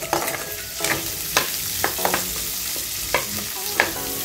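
Six whole, unpeeled garlic cloves fry in a pan for Filipino adobo, a steady bright sizzle broken by repeated stirring scrapes and clinks, close and continuous.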